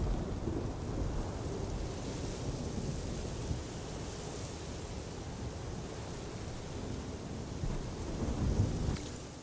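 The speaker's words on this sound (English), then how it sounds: "I actually heard a thunderstorm somewhere in the distance in the game" Distant thunder in the video game Horizon Forbidden West rolls low and steady under a wash of rain-like noise, a faint continuous rumble that swells slightly near the end, no voices.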